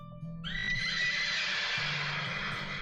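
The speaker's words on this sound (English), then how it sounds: "There go the horses." Horses let out a loud, drawn-out whinny that starts suddenly and carries for several seconds, with faint hoof clip-clop underneath and no talking.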